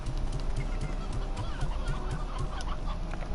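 Hens and chickadees clucking in the Slime Rancher video game, a busy cluster of repeated soft clucks in a steady rhythm over a dense background bed.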